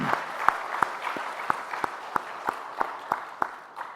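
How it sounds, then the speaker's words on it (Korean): A church congregation during Sunday worship claps in blessing, a steady wash of applause with distinct rhythmic claps landing about three per second in unison. "축복하는 박수 한번 하십시오."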